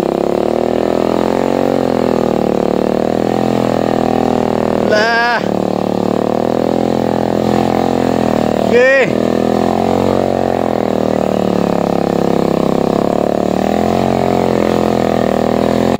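A motorcycle labors up a muddy roadside, its engine droning loud and steady with a couple of brief rev swells, while a man makes short remarks over it.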